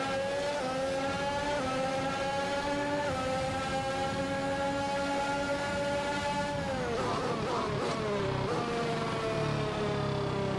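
A Formula 1 car in the F1 2021 racing game at the Chinese Grand Prix, its engine a loud, continuous high whine that climbs through stepped gear changes, then dips and slurs mid-clip before rising again.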